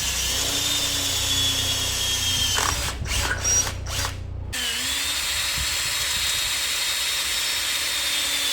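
A power drill bores holes into the steel frame of a 1957 car during a rear sway bar kit install, a close, steady whirring run with a brief pause and tone change midway.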